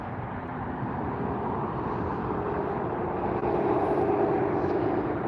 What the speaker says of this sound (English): I see Avianca taxiing up. They'll be up here in front of us in just a few seconds.